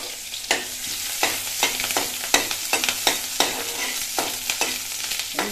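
Green chilies and onion fry in homemade oil with a steady broadband sizzle, while a spoon stirs and scrapes the pan in irregular clicks and knocks, close and fairly loud, with no voices.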